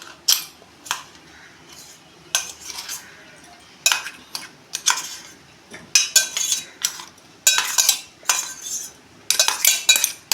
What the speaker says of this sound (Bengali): এই যে পেস্টটা আমি ঢেলে নিচ্ছি